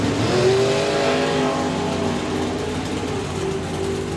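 A drag racing car at the FIA FIM Main Event 2026 launches softly and then accelerates down the strip, its engine rising into a loud sustained roar with a climbing tone that holds to the end.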